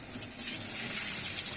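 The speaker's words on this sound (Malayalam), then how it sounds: "ഇനി ഒന്ന് വെള്ളം ഒഴിച്ച് നോക്കട്ടെ." Water gushing as it is poured into a makeshift tub, a steady close splashing pour lasting the full moment with no talking.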